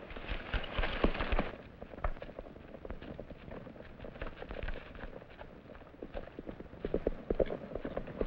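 A horse's hooves clip-clop in an old Roy Rogers western, an irregular stream of close, fairly faint hoof knocks with no talk over them.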